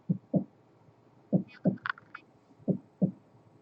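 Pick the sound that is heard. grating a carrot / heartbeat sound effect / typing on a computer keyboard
heartbeat sound effect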